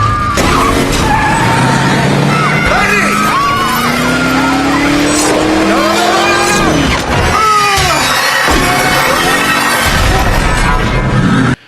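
A car skids with squealing tires and crashes in an Iron Man film scene, loud and close for most of the stretch, with screeching sweeps, engine noise and a heavy impact before it cuts off abruptly.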